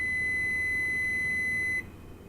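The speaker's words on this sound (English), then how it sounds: "when it finishes, you get a beep to say that it passed." A Covidien SCD 700 compression device gives a single steady electronic beep after passing its self-test. The tone holds for almost two seconds, then cuts off, leaving quiet room noise.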